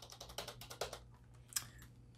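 Keys clack on a wireless keyboard and trackpad combo in quick, uneven bursts, close and fairly quiet, with one sharper tap near the end over a low steady hum.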